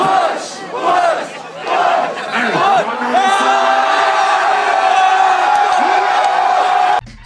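A large concert crowd chants and shouts in unison outside venue doors, loud rising and falling cries repeated over and over, dense and close.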